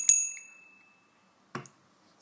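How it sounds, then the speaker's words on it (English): An old souvenir bell recovered while metal detecting gives a bright, clear ding that rings out and decays, followed by a softer second strike and a faint tap at the end. "This old bell here."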